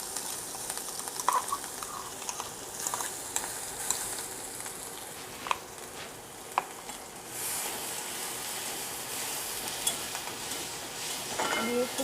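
A ground paste of ginger, garlic, dry red chilli, bay leaf and cumin fries in a pan with a faint, steady hiss, broken by occasional light scrapes and ticks.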